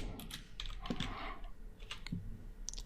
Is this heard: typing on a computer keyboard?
yes